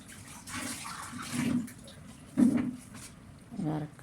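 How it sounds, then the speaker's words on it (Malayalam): A glass of water is poured into a pot of beef potato curry, with splashing bursts of liquid at close range over a low background. "ഒരു ഗ്ലാസ് വെള്ളം ഒഴിച്ച് കൊടുക്കുക കേട്ടോ"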